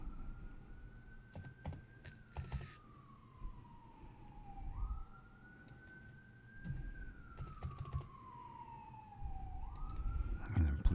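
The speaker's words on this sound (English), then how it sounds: "And then police cars going by" Police car sirens wail past in a rising and falling sweep, fairly faint and distant, with traffic rumble and occasional clicks in the background.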